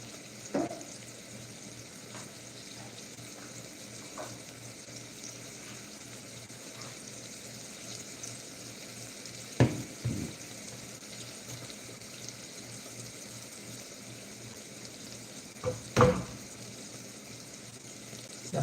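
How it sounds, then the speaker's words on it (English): Water in a cooking pot with a tamale in it, a steady low bubbling hiss throughout, with a few sharp clinks and knocks of utensils now and then, nearby and without talk. "So it's going to go inside the water. It's going to boil."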